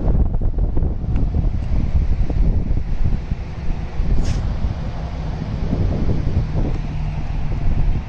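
Strong wind buffets the microphone outdoors at a summer pétanque game, a loud continuous low rumble with gusty swells and no voices.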